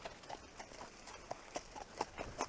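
A fit horse walks at an easy pace, its hooves clip-clopping in a steady rhythm, faint and a little distant.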